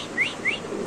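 A black Bombay pigeon gives two quick, rising squeaky chirps close by, with a faint third call at the end over low background noise.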